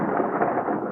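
A steady, loud, dense rumble of thunder during a rainstorm, filling the whole moment without a break, with a faint hiss of rain blended in; no voices.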